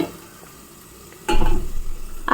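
Steady sizzling of mango frying in a pan, swelling louder partway through as it is stirred; no voices.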